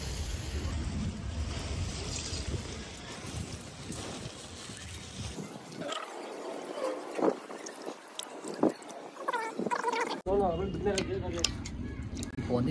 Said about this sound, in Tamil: போட்டு கொஞ்சம் நேரம் தண்ணியில் ஊற வச்சுக்கலாம்